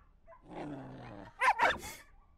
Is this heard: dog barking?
yes